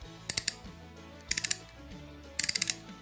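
Ratcheting wrench turning a bolt, giving three quick bursts of crisp clicking, each a rapid run of four or five sharp pawl ticks, close and clear with short pauses between strokes.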